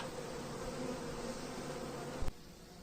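Honeybees buzzing around a 24-frame beehive, a steady, fairly faint drone that holds evenly throughout, with a brief dull bump near the end and no voices.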